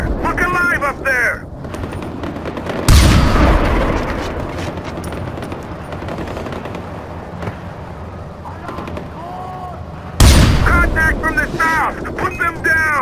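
Gunfire and loud bursts in the Far Cry 4 video game, with two sharp, heavy volleys at the start and near the end, game dialogue voices shouting throughout, and a sustained din of battle in between.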